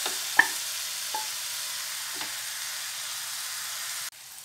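Crumbled paneer being stirred into samosa filling in a hot pan, a few soft spoon scrapes over a steady, gentle sizzle that cuts off abruptly near the end.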